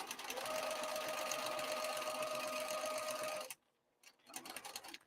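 A sewing machine stitches across the edge of a crossbody bag at a long top-stitch length, humming continuously and close for about three and a half seconds, then going quiet before a brief second burst.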